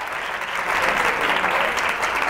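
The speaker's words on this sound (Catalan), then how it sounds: "Vinga, un aplaudiment per la Isabel." Steady, dense applause from an audience at a televised school spelling contest fills the whole short stretch, even and loud with no voices on top.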